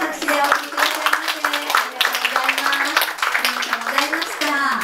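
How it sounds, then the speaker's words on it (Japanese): An audience at a singing recital applauds after a singer's performance, with steady clapping from many hands while a host speaks over it. "大きな拍手でお送りください。"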